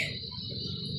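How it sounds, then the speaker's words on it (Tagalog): Crickets and other insects chirp in the rain at night from a porch during monsoon rains, a steady high insect drone over a dense patter of falling rain, continuous and close. "Yung huni ng mga kuliglig."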